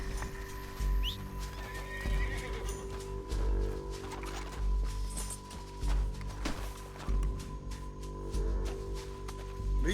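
Rhythmic hoofbeats of a galloping horse in Red Dead Redemption 2 pound steadily with occasional whinnies, over a constant droning game soundtrack, no talking.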